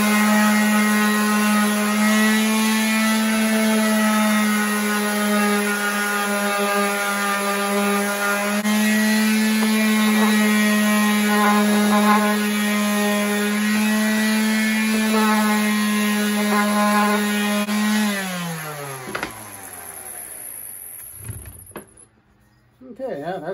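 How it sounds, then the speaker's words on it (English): An orbital sander runs across a wooden board as a steady, loud, buzzing whine that holds for most of the clip, then winds down and stops near the end. "get my orbital sander going here"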